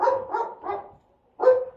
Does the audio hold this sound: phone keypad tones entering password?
no